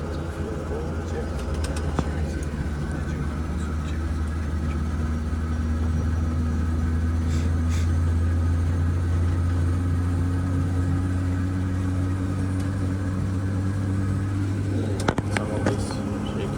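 Inside the cockpit of a SAAB 340, a turboprop engine runs just after start, a loud, steady low drone with tonal hums that slowly rise in pitch, while crew members talk over it.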